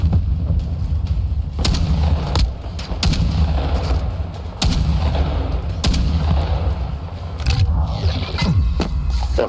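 Repeated shotgun blasts in a Call of Duty match, loud sharp booms at irregular intervals over dense continuous battle noise with mechanical clatter.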